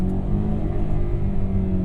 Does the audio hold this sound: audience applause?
no